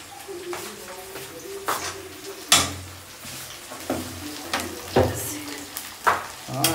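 Whole spices crackling and popping in hot oil in a kadhai, with sharp, irregular pops over a steady sizzle, loud and close, and some clatter of a pan.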